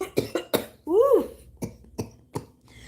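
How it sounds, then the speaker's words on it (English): Someone coughs and clears a harsh, raspy throat, several sharp hacking bursts followed by a longer gravelly throat-clearing rasp, close and loud, with a few more coughs trailing off. "That is the sound of someone's throat that has had too many blunts"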